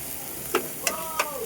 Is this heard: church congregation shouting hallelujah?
no